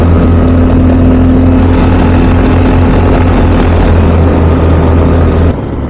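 A paramotor engine drones loud and close throughout a crisp November morning flight, with steady low harmonic tones, the roar dropping away sharply near the end.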